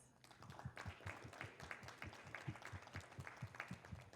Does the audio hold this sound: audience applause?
yes